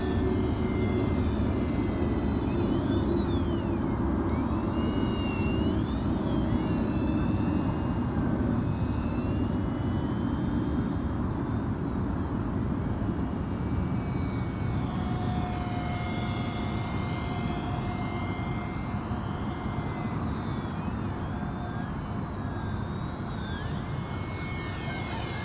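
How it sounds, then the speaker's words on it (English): An E-flite UMX Waco small RC model biplane flies on a 2S battery, its electric motor buzzing steadily overhead and rising and falling in pitch through aerobatic passes, heard over constant outdoor wind and background noise. "Little Waco's no trouble flying inverted on 2S."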